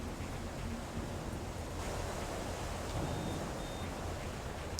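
Steady, full rushing of water through a sewer in Tomb Raider The Angel of Darkness, a broad even wash with no breaks and no voices.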